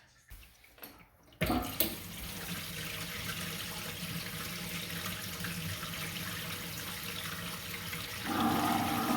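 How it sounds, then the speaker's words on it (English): Water gushes steadily into a bathroom sink and down the drain after a brief clatter, a loud continuous rushing pour that swells slightly near the end. "we have a full volume of water that we're going to dump down the sink"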